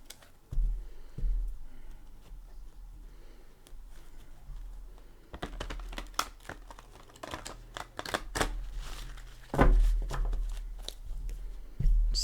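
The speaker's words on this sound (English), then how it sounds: "I'm going to go ahead and give it a shuffle or two." Tarot cards being shuffled, with quiet rustling at first, then a run of sharp riffling and snapping bursts that grows louder toward the end.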